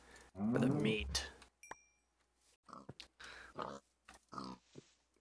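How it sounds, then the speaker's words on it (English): A pig oinks and grunts in the Minecraft modpack GT New Horizons, a short squealing burst up front followed by scattered clinks and brief game sounds, with a voice speaking briefly amid them. "Piggy."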